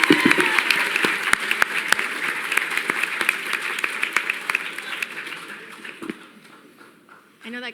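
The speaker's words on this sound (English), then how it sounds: "Round of applause." A crowd at a gaming convention town hall applauds steadily with dense clapping and a few whoops, the applause thinning out toward the end.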